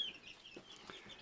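Two-week-old Appenzeller Spitzhauben chick giving a few faint, soft cheeps and clucks, close by in a quiet indoor setting.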